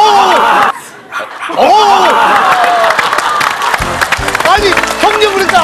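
Several dogs on a Korean TV talk show studio set bark and yip in bursts, mixed with crowd noise, applause and people talking over them.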